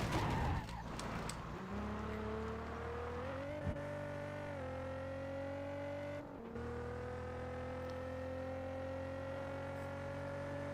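Engine of a McLaren GT in the racing game Test Drive Unlimited 2, a steady sustained drone that climbs gradually in pitch as the car accelerates, with a brief dip partway through, with no talking.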